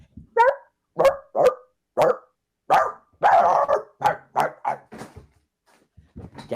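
A person imitates a barking dog with a run of short, sharp, voiced woofs in an uneven rhythm. The barks are close and loud, and a few quicker yips come near the end.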